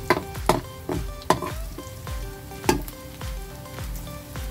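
Onions sautéing in a pan for spaghetti sauce: a steady close sizzle and fry, with several sharp clacks and scrapes from a utensil stirring against the pan, no voices.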